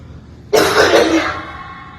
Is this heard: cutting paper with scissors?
no